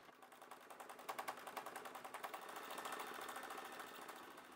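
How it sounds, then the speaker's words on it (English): A sewing machine does free motion zigzag thread sketching. Its needle taps out a rapid, regular rhythm that builds into a steady, faint whirring hum, with no one talking. "This is done mainly using free motion zigzag stitch, with quite a bit of sideways movement to create many random lines."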